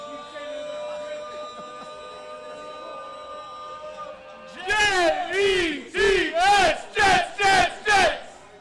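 New York Jets fans at a draft party erupt after a steady tonal backdrop, shouting a series of loud, rhythmic group chants in about six evenly spaced bursts, close and boisterous.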